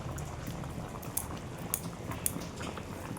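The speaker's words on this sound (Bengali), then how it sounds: "দেখুন বন্ধুরা ঝোলটা টকবক করে ফুটা আরম্ভ হয়ে গেছে।" Potol dalna curry sauce boils in a pot, with constant close bubbling and a few sharper pops standing out over the simmer.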